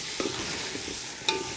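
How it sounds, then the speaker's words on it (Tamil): Carrots and beans sautéing in a pan, with a soft constant sizzle broken by a couple of sharp stirring scrapes from a utensil, close up. "காயில் இந்த அளவுக்கு வதங்கினது போதும்"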